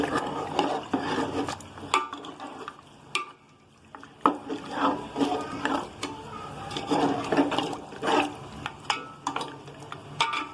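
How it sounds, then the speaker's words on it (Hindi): Spoon scraping and clanking against a metal pot as beef and water are stirred for Bombay beef biryani, repeated close stirring strokes with a short pause midway. "अच्छे से मिक्स कर लूंगी।"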